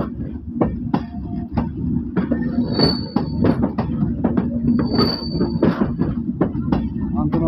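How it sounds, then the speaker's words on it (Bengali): A long Bangladesh Railway intercity train rolls through Bheramara station, a steady rumble with rapid rhythmic wheel clicks over rail joints and occasional high squeals, close and loud throughout, with a voice faintly mixed in. "আন্তনগর ইন্টারসিটি ট্রেনটি এইমাত্র ভেড়ামারা স্টেশনে প্রবেশ করবে।"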